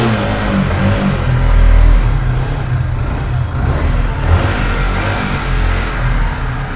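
A used motorcycle at a bike showroom near Kolkata revs nearby, its engine rising and falling in loud, rough surges with a low rumble throughout and no talk.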